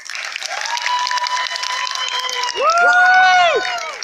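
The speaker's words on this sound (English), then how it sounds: "a huge round of applause for their confidence" Audience applause and cheering from a large crowd at a Jubilee Arts performance, a dense steady wash of clapping that swells louder toward the end while whooping voices rise above it.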